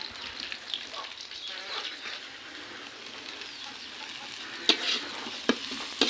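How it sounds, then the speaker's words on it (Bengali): Onions and chilies frying in a pan before fish is added, a steady close sizzle running throughout with a few sharp clinks of stirring near the end. "পেঁয়াজগুলা মরিচ দিয়ে ভাজতেছি, মাছগুলা দিব।"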